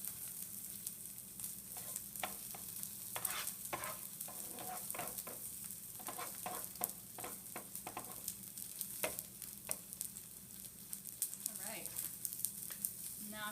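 Okonomiyaki sizzles steadily in a pan, a dense frying hiss with scattered pops and occasional scraping taps from a utensil, close and moderately quiet, with no talking.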